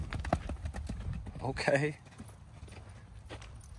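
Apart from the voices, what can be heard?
horse hooves clip-clopping on a ranch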